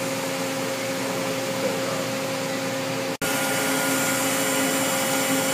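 A Cincinnati Avenger 250MT three-axis CNC lathe spindle spins at 1,000 RPM, giving a steady, loud hum and hiss with faint tonal whine that runs continuously, broken only by one instant dropout.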